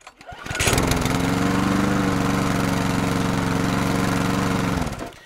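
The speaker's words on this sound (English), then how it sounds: "we're going to do some extreme mowing with the Exmark Commercial 21" An Exmark Commercial 21 walk-behind lawn mower pulls into life with a quick rise, then holds a loud, steady, buzzing engine drone while cutting long, wet, frost-covered grass, and cuts off sharply at the end.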